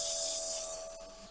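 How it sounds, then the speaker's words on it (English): Close, steady abrasive rubbing of 80-grit sandpaper against a wooden cup spinning on a lathe, a hissing scratch over a faint constant motor hum that eases slightly toward the end. "Start with the sanding"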